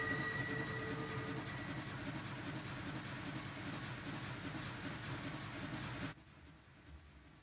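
A model train with twin Big Boy locomotives runs along its track in a steady, close rumbling clatter that cuts off abruptly near the end, leaving quiet.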